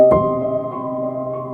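A soft note from the Spitfire Audio Labs Soft Piano rings out and lingers, washed in echo and reverb that keep the tone hanging and fading slowly.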